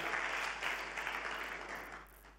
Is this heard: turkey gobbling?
no